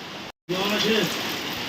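Morning rain falls in a steady, dense patter, with a brief cut in the sound and a faint voice murmuring beneath the wash of rainfall.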